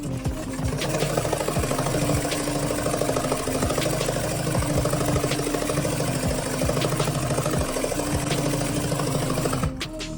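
An embroidery machine stitches a fill stitch, a steady rapid mechanical whirring with regular needle knocks running continuously and close up, with no talking, until it cuts off near the end.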